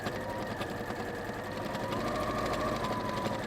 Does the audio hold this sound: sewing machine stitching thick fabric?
yes